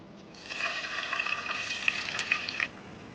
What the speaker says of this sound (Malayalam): എണ്ണ ചൂടായി നമുക്കിതിലേക്ക് ഈ കൊഞ്ചി നമുക്കിതിനകത്തേക്ക് ഇട്ട് കൊടുക്കാം.